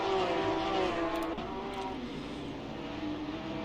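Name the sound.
race car spinning off track in a racing video game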